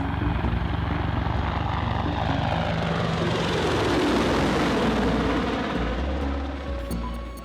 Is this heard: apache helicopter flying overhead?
yes